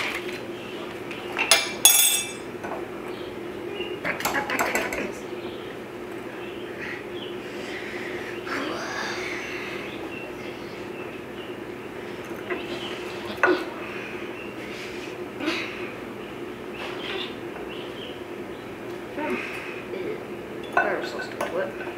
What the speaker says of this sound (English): we're going to blend in 6 tablespoons of chilled butter. We're going to use our pastry blender here to do that.